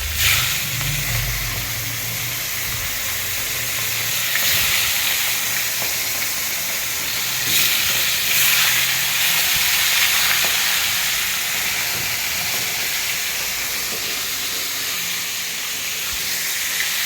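Fish frying in hot oil in a home kitchen, a steady broadband sizzle and hiss running throughout with slight swells, close and fairly loud, no talking.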